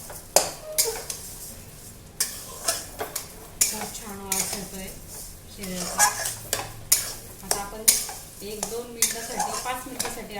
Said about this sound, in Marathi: एक वाटी रव्याला मी अर्धी वाटी साखर टाकणार आहे